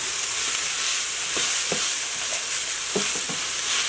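A pan of homemade sausage gravy simmers with a constant bubbling sizzle, and a spoon scrapes through it now and then in short stirring strokes, close and loud.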